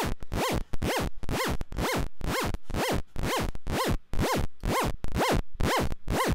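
Rapid repeating modular synth sweeps pulse in a steady rhythm, each tone pitch-bending up and back down, a dozen or so bends in a row.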